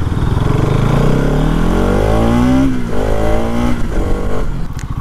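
A 2020 Bajaj Pulsar NS200 BS6 motorcycle engine revs loud and close under throttle, its droning pitch climbing steadily for about two and a half seconds before dropping and settling into a rough idle-like rumble, with no voices.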